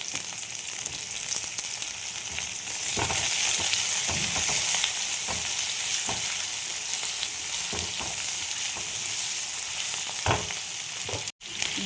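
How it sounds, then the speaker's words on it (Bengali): Onions and potatoes frying together in a pan give a continuous loud sizzle, with occasional stirring scrapes and clicks and a brief cut near the end; nobody speaks. "এবার পেঁয়াজ আলু একসাথে ভেজে নেব।"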